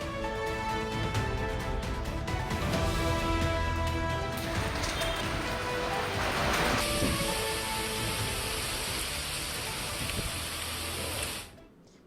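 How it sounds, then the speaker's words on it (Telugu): A heavy downpour in Hyderabad city makes a dense, continuous hiss of rain beating on surfaces, loud and steady with no talk, before it cuts off abruptly at the end. "అరగంట నుంచి నాన్ స్టాప్ గా వర్షం కురుస్తోంది"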